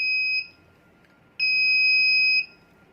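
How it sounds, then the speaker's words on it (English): Two steady, shrill electronic beeps from a vehicle sleep-alert buzzer, the first short and the second about a second long, with silence between them. "Then it will buzzer 3 times."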